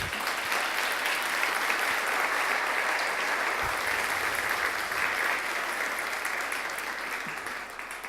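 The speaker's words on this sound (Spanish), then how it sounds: "Denle un aplauso a Jesús por ello." A church congregation applauds during a sermon, a sustained, even roar of many clapping hands that carries on steadily for several seconds and eases off slightly near the end.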